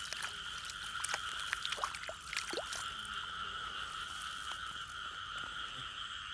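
Frogs call steadily at night during a frog hunt, a dense chorus of insect-like trilling bands with scattered nearby croaks and splashy chirps, continuous and moderately loud with no talk.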